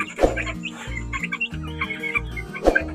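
Chickens cluck close by in short repeated bursts, with a couple of sharper squawks over a low droning background.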